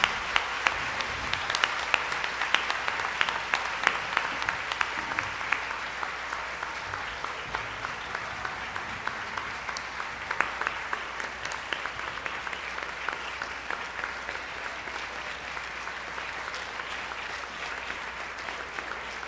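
Audience applause closes a round-table discussion, a steady, dense wash of clapping sustained for about nineteen seconds at moderate level with no voices over it.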